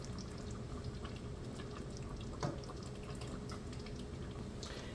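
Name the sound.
half and half being poured into cheeseburger soup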